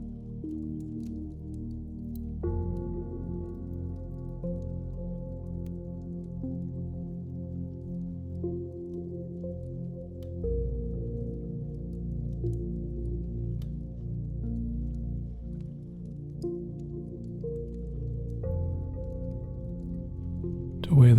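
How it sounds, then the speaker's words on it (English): Gentle water laps softly at the edge of a clear lake, with faint drips and wet squishes beneath a sustained, droning musical tone. "the gentle lapping sounds of this clearest lake and these soft waters continue to wash always so lightly"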